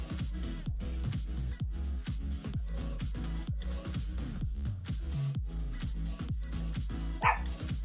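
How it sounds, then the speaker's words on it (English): A dog barks repeatedly in short sharp bursts close by, a steady run of yaps and bow-wows with a whimpering edge, continuing for several seconds with no talk over it. "Why are you barking?"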